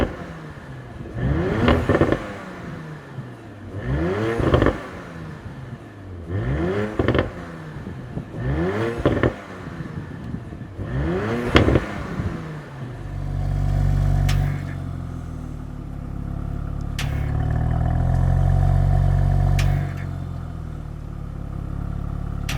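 Audi RS4 Competition engine revved hard in a run of five or six sharp blips that climb and fall, then held high against the rev limiter with a loud, steady, stuttering roar, no voices.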